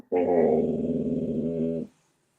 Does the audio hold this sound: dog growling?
yes